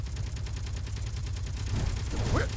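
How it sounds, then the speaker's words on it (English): Guns on a Space Engineers scrap survival build fire in a rapid, continuous stream of close, pulsing shots, with a short voiced exclamation rising near the end. "Why are all the guns shooting?"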